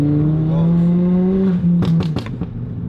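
A 290 bhp Stage 3 Ford Fiesta ST engine revs hard and loud up close, then upshifts, followed by several sharp crackling exhaust pops in quick succession.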